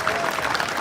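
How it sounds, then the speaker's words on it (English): A crowd at a cycling team presentation in Victoria Square, Adelaide, keeps up a brief burst of dense, even applause, loud and close throughout. "So that deserves a round of applause."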